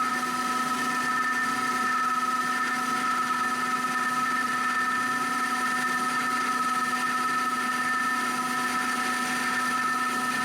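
A lathe turns 303 stainless steel with heavy cuts, giving a steady, loud mechanical whine with sustained tonal hum and constant machining noise throughout, no talking.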